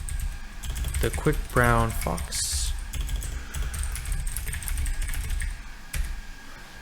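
Keys clatter on a computer keyboard while a message is entered into a beginner Python program, with a short run of close taps mixed in with a man's speech, and quieter clicks continuing afterward.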